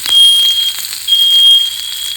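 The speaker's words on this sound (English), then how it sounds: "My smoke alarm." A kitchen smoke alarm shrills in loud, steady high-pitched beeps with a short break midway, going off while food sears on the stove, with no talking.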